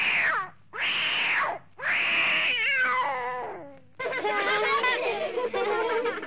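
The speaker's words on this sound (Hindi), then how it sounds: "और टोकरी में एक बिल्ली का बच्चा।" A kitten gives three drawn-out, loud meows in quick succession, followed by a longer wavering yowl that blends into laughter-like chatter.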